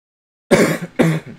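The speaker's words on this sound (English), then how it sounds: "If I keep coughing throughout this entire thing" Two quick, harsh coughs close to the microphone, one right after the other, following a moment of silence.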